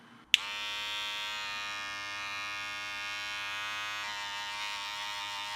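A Wahl Magic Clip cordless hair clipper switches on and runs steadily at close range, a loud, even motor buzz with rich harmonics and a slight shift in pitch partway through, with no talking.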